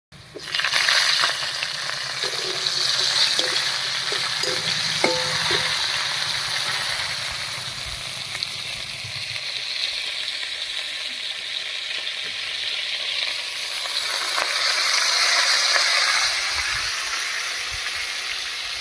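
Green chillies and squeezed mankochu (giant taro) stems added to potatoes frying in a pan, a loud steady sizzle and hiss with some metallic tapping early on, continuing for several seconds without talk.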